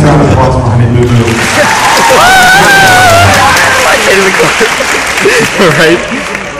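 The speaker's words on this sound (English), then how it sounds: "Nice round of applause for Honey Boo Boo" Audience applause at a hypnotist show, a loud, sustained wash of clapping with cheering and a few whoops mixed in, fading slightly at the end.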